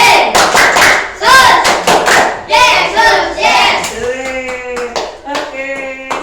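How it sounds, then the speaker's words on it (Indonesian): Group clapping for Jesus in a rhythmic pattern of sharp, loud claps with thumps, led by a voice and joined by chanting or singing voices toward the end, close and lively. "Ya, kita akan tepuk Yesus dulu sebelum kita berpisah."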